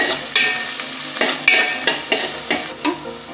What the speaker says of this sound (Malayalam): കടുക് പൊട്ടിക്കഴിഞ്ഞാൽ ഉള്ളി, വെളുത്തുള്ളി, പച്ചമുളകും ഇടുക. എന്നിട്ട് ഇങ്ങനെ വഴറ്റേണ്ടതാണ്.